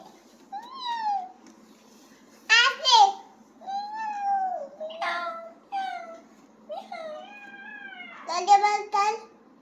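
A cat meows repeatedly, close by, in a series of drawn-out, rising and falling cries, some sharp and strained, with short pauses between.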